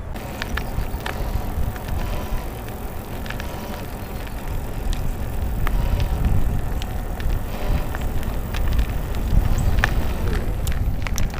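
A HiPEAK Bona electric bike being ridden outdoors, with a steady low rumble of motor and tyre noise plus wind, and faint scattered ticks and clicks throughout, growing slightly louder in the second half.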